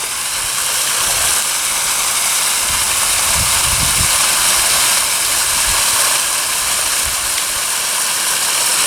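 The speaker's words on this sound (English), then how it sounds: "I got that pump all hooked up and situated and turned it on" A newly hooked-up water pump runs steadily after being switched on, a loud, constant broadband hiss and rush with a low motor rumble underneath and no pauses throughout.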